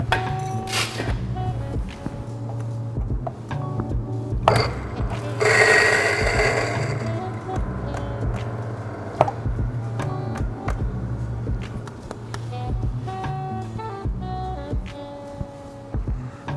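Coffee grinder set for an espresso grind runs with a steady mechanical whir, broken by sharp clinks and knocks and a short louder burst of grinding midway, close and alone without talk.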